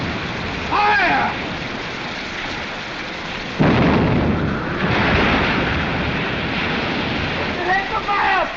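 A ship's cannon fires in a 1936 film, a heavy booming blast that rolls out over a rumbling, noisy old soundtrack, with shouting voices heard around it.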